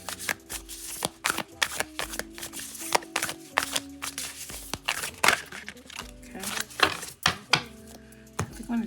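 Tarot cards are shuffled by hand, a close, continuous run of riffling and slapping card sounds with brief soft thuds and no talking over them.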